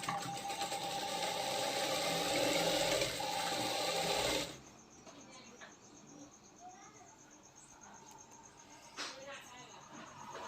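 A sewing machine stitches a blouse, its steady, dense whirring running loud for about four seconds and then stopping abruptly, leaving quiet room noise with faint, scattered sounds.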